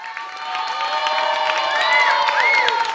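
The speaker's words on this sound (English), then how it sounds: "A round of applause to them." Audience at a kids talent show on Ghanaian television cheers and applauds loudly and steadily, with shouts and whoops rising over the crowd noise throughout.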